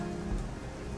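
Steady rain falls in the video game Shadowrun Hong Kong, a soft even patter with no distinct drops standing out, fairly quiet and unbroken throughout.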